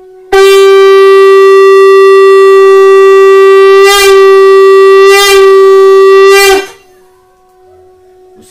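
A shankh conch shell is blown in one long, loud, steady drone for about six seconds, swelling briefly a few times before cutting off, followed by low background hum.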